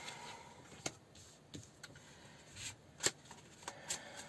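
Faint, scattered snaps and soft riffling of a Spirit Song tarot card deck being shuffled by hand, with quiet pauses between the short bursts.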